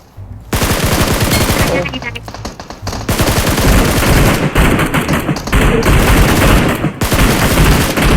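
Rapid automatic gunfire in the PUBG Mobile shooter game, loud sustained bursts of rattling shots with brief pauses between volleys, close and dense, with players' voices talking over the shooting.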